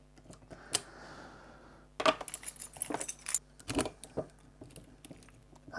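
A key is tried in a disassembled and rekeyed Abus Bordo Granit X-Plus folding lock, giving close, sharp metallic clicks, scrapes and key jingles in irregular bursts.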